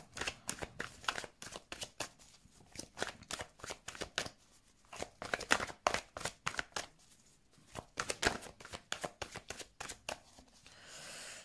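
A tarot deck is shuffled for a reading over and over, with crisp riffling bursts in irregular clusters and short pauses between, close and clear, no one speaking.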